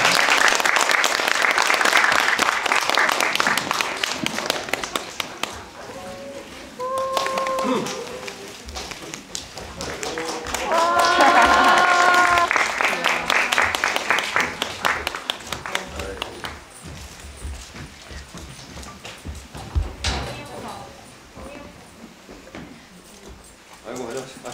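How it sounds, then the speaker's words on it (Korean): Audience at a film screening talk welcoming the director and actors: a sustained wash of applause with high whoops and cheers rising midway, fading toward the end. "박수를 쳐주시면 됩니다. 지금."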